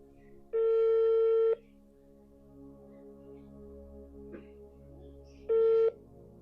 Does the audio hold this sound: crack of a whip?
no